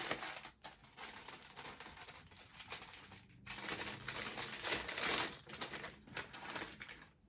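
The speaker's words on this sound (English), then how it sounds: "Sorry about the rustling." Plastic packaging crinkles and rustles close up in irregular bursts, with short pauses between handfuls of crackling.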